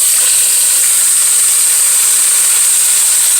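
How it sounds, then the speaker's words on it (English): A beef roast sears in hot olive oil, giving off a loud, steady sizzling hiss that holds even and unbroken throughout, with no voices. "Give it a nice sear on both ends."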